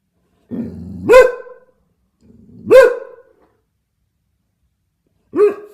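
A dog gives three separate barks, each starting with a low growling rumble before a sharp, loud yap, with silent pauses between them.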